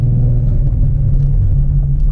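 A 300-horsepower Ford Mustang driving to a coffee shop, its loud, steady low engine drone and road rumble filling the cabin without a break.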